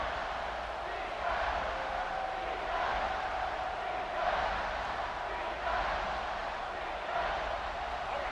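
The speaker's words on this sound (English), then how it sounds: "No fall off from the noise or intensity from this crowd as we start the fourth quarter." Stadium crowd noise from EA Sports College Football 26 as the fourth quarter begins, a steady roaring wash of many voices with slight swells, sustained throughout at moderate loudness.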